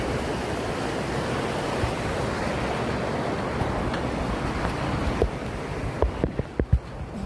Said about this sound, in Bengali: এখান থেকে পুরো পানি নামছে